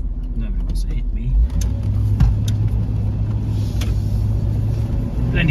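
A Range Rover Vogue SE classic pulling away, a low engine rumble that steps up after a second and holds steady under a voice, with some cabin noise.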